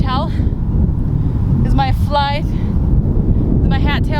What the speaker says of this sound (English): We have a lot of wind here.